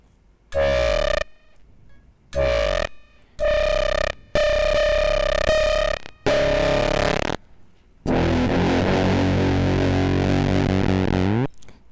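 Guitar fed through a Quad Comparator synth module with the filter cutoff modulated comes out as buzzy, distorted synth tones in short repeated bursts, then a longer sputtering, crackling sustained note, loud and without talk.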